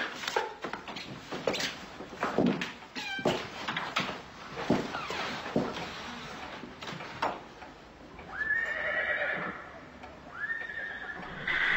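A mare whinnies loudly in repeated neighs, mixed with hoof clops and shuffling nearby, with no talking.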